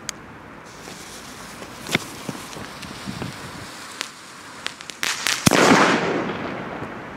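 Scattered crackling pops and bangs from Roter Korsar fireworks, irregular and mid-distance, ending in a louder burst with a rushing hiss.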